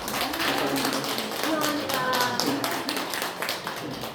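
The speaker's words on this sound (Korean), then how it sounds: "전미선 씨 우리 박수로 환영하겠습니다" A church congregation at a thanksgiving service claps in welcome, a steady spread of hand claps at moderate level with a voice briefly audible beneath the applause.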